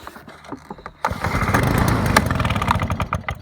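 A Solo 451 backpack mist blower's small two-stroke engine pulls over and catches at about one second, then runs at a steady, fairly loud buzzing idle with a slightly uneven rhythm.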